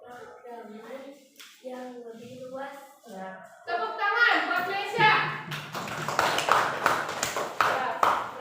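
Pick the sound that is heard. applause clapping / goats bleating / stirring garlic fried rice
applause clapping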